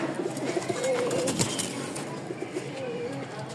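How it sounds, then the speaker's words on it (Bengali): Pigeons, a pair of domestic birds kept for sale, cooing softly in low rolling calls at close range under steady background noise, with a brief flutter near the middle. "এই হচ্ছে 2 জোড়া কবুতর।"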